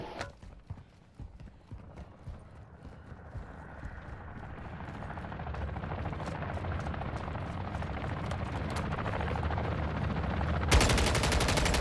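In the video game MW III Zombies, a helicopter's rhythmic rotor thumping swells steadily louder over rapid bursts of gunfire, ending in a loud sustained blast of shooting.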